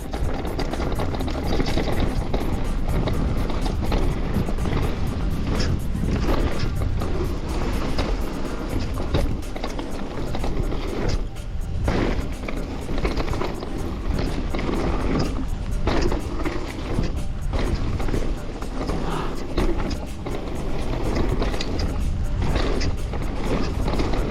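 A trail motorcycle roars continuously while riding off-road, the engine loud and close with rising and falling revs and rough wind and mechanical noise throughout.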